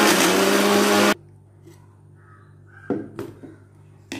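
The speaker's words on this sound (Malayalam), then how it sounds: "അപ്പോൾ നമുക്കിത് അടച്ച് വെച്ചിട്ട് ഞാൻ അടിച്ചിട്ട് കാണിച്ചു തരാം" A mixer grinder blends bread into crumbs with a loud, steady whirring roar for about a second before cutting off abruptly, leaving a quiet room with a few faint clicks and light clatter afterward.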